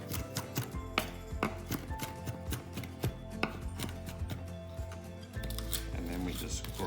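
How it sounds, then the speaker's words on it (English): A kitchen knife chopping and grinding garlic with salt into a paste on a cutting board, with steady rapid taps and scraping strokes, close and crisp, over faint background hum. "we just grind down our garlic using the knife"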